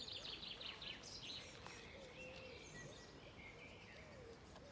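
Faint morning birdsong in Belize, chirps and trills from several birds at a distance over a soft outdoor hiss, no voices.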